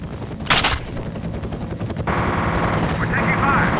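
Gunfire in the video game F.E.A.R., a sharp loud burst followed by rapid automatic fire and a droning aircraft-like rumble, with speech mixed in.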